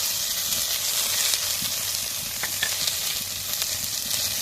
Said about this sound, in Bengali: কালারের জন্য একটুখানি কাশ্মীরি লঙ্কার গুঁড়ো দিলাম যে সর্ষে আর জিরেটা বেঁচে রেখেছিলাম সেটা দিয়ে দিলাম